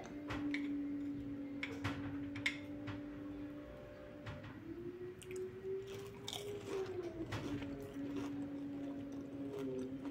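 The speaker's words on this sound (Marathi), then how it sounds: "तुम्हाला आवाज आला असेल. कसलं मस्त भारी कुरकुरीत झाले ते." Someone bites into a crunchy deep-fried bread roll stuffed with spicy paneer, giving several sharp, close crunching bites and chewing scattered across the stretch over a soft, steady tonal background hum.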